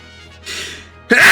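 A single sharp sneeze bursts close into a microphone, preceded by a brief breathy intake, all within a second.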